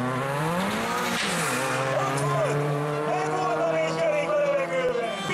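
A Trabant 601 rally car at a jump during the Nyíregyháza Rally 2019 holds a steady, loud engine drone whose pitch sweeps up and down, while a voice talks over it.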